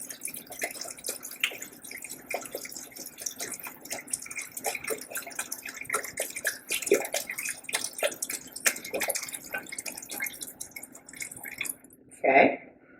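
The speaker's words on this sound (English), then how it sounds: "I'm going to go ahead and start pouring in our vegetable broth" Vegetable broth poured into a pot for lentil vegetable soup, a light trickling, dripping splash continuing for several seconds under intermittent kitchen noise, ending with a brief louder clatter.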